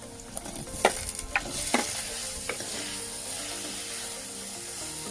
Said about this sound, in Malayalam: ഈ തക്കാളി നല്ലപോലെ വഴറ്റിയെടുക്കാം.